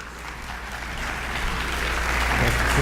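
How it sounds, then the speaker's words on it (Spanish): An audience applauds at an academic talk to welcome a speaker, the clapping building steadily and growing louder over a few seconds. "Lo recibimos con un fuerte aplauso"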